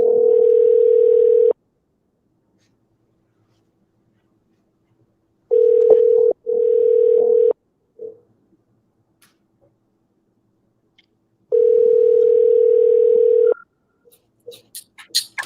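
A phone's ringback tone sounds as a steady electronic beep in long bursts separated by silences, three loud tones repeating at regular intervals, with faint clicks near the end.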